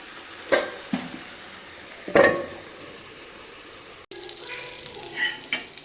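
Prawns and fish frying on a tawa, a continuous crackling sizzle with a few sharp scrapes and clanks of stirring and turning, close by and without talk.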